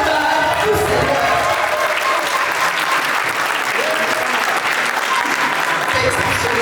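A standing audience at a book-signing conference in Yaoundé gives sustained, dense applause that fills the room evenly for several seconds, with a few crowd voices mixed in.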